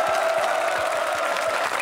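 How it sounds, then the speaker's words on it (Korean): An audience of army reservists and active soldiers claps together at a televised military unit event, a dense, loud, even burst of applause throughout, with no voices standing out. "선후배 여러분이 만났던 이 따뜻한 자리 여러분 큰 박수 한번 부탁드립니다"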